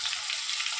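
Potato pieces with salt and turmeric sizzle briefly in a hot pan, a soft, steady crackle of frying with no voices.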